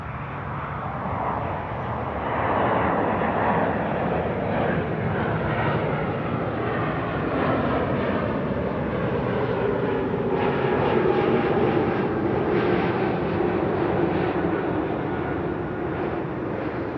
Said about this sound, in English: And we got a plane. Porter E195E2.